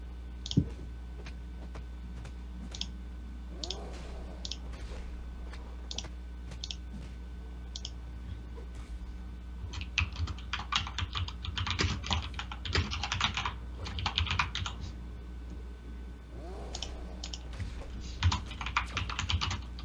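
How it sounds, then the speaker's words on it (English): Clicky computer keyboard typing in sparse bursts, loud and close, with pauses between runs of rapid clacking keystrokes over a steady low hum. "I got a clickety keyboard"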